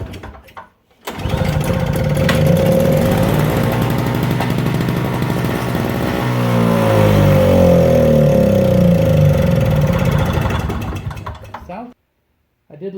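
A snow blower engine with loose paddles bursts into a loud, close, chattering run after gasoline goes into the carburetor, holding a rough steady roar for about ten seconds before cutting out abruptly.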